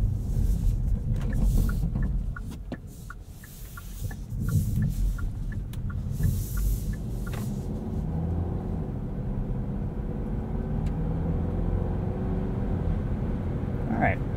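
A 2023 Kia Niro Hybrid SX Touring, front wheel drive, pulling away on the road, giving a low steady rumble of tyres and cabin hum, with brief tones early on and a voice talking over parts of it.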